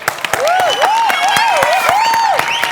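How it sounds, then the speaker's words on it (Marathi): Enthusiastic audience applause for two contestants on a Marathi comedy stage show, steady clapping that runs the whole stretch, with a sustained musical tone riding above it. "एकदा जोरदार टाळ्या द्या दोघांसाठी."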